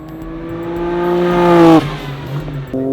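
A drag car engine revs hard, its pitch climbing steadily to a loud peak before dropping off abruptly, then a short lower rev follows near the end.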